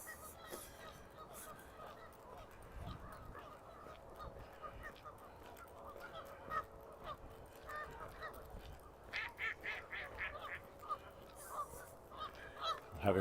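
A flock of geese near a lake in Regina honking back and forth, repeated overlapping calls growing louder toward the end over outdoor background noise.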